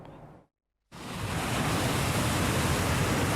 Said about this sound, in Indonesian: Ombak setinggi 4 hingga 5 meter terus menggulung pantai selatan Lumajang, Jawa Timur.